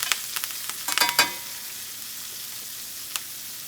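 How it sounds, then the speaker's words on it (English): A steak sizzles in a pan as garlic and thyme oil is basted over it, with a cluster of sharp spattering pops early on that settles into a faint hiss, then one last crackle. "So that flavorful oil, we're then basting it on top of the steak, and it's going to continue to cook and flavor it."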